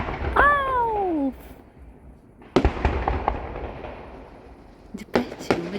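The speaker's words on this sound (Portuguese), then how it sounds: "Por que fogos é tão bonito, hein?" Fireworks going off at a party, sharp cracking bursts with crackle and rumble, coming in scattered clusters, plus a brief cat-like meow near the start.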